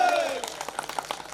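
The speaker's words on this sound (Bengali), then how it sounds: "জোরে হাততালি হবে" A group at a reunion gathering on the beach breaks into brief, scattered clapping, soft and somewhat distant, with a voice speaking over the start.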